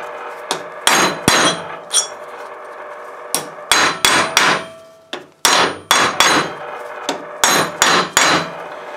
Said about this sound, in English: this is a lead hammer, so it's not going to damage anything